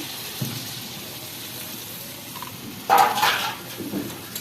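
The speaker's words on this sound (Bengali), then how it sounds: "এবার আমি কষানোর জন্য অল্প একটু ঝোল দিয়ে দেবো ঝোল দিয়ে দিলাম" Broth poured into a pan of papaya cooking with leta fish, a short splashing gush near the end after quiet kitchen background, with no talking.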